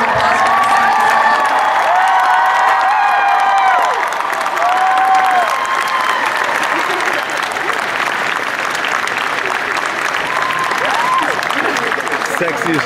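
Fan convention crowd at a Lost Girl Q&A claps and cheers loudly as cast members are introduced, with whoops, scattered shouts and voices mixed into the continuous applause.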